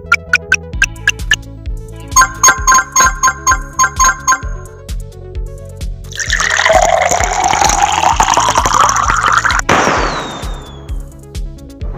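Water pouring in the mobile puzzle game Save the Fish: a run of bright ding chimes gives way to a rushing, bubbling fill of liquid lasting a few seconds, then a short splash and fading trickle.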